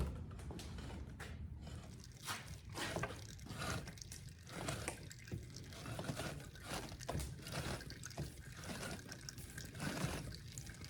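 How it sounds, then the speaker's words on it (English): Apple juice drips and trickles steadily from a cider press in a woodshop, a faint, continuous patter with irregular soft splashes and occasional creaks of the press, with no voices. "Starting to get some juice."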